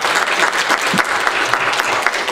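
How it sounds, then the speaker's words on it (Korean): A church congregation at a Sunday anniversary service claps together in steady, dense applause, with loud, continuous clapping filling the whole moment. "주님께 크신 영광의 박수를 올려드리겠습니다"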